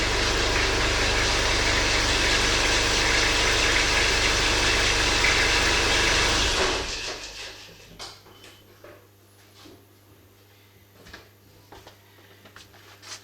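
A car engine idles loudly and steadily close by, then is switched off and cuts out abruptly, leaving a quiet background with faint scattered clicks and handling noises.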